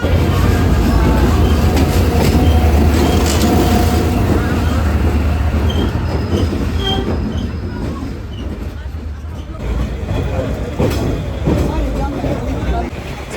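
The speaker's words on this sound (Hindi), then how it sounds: "गाइस ट्रेन जस्ट हमारे बगल में से जा रही है, 1 इंच अवे ट्रेन हमारे बिल्कुल।" A train rushes past within an inch of a station platform on a Danang to Hanoi rail journey, a loud continuous rumble with rattling that slowly eases, while people talk nearby.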